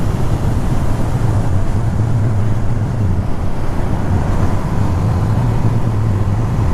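KTM Duke 390 single-cylinder motorcycle holding high revs at about 100 in top gear: a steady, droning engine note buried under loud, constant wind roar from riding speed.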